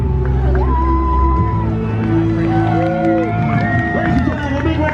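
Airshow crowd at Joint Base Andrews 2025 reacting to U.S. Army Golden Knights parachute jumpers, a steady hubbub of voices and cheers under loud public-address talk, with tonal whistles or sirens sweeping across the scene.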